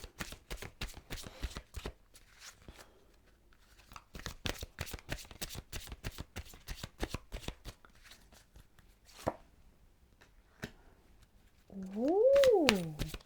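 Doreen Virtue angel therapy cards shuffled by hand in rapid riffling flicks, close and steady for several seconds, then sparser taps, ending with a brief rising tonal sound over the cards.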